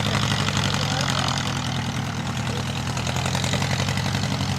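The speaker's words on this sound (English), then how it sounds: "horsepower Franklin, which is a more or less modern aircraft engine" A Franklin aircraft engine idles at a vintage-aircraft air show at Old Rhinebeck Aerodrome, a loud, steady, low throbbing drone with an even pulse that holds throughout.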